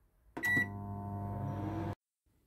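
A microwave oven runs at full power while baking a Cola Cao chocolate sponge cake, giving a steady close hum after a brief start click and beep, then stopping abruptly.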